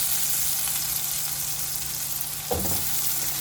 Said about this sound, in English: And next goes in our potatoes. Be careful, make sure the heat is all the way low because it will splutter.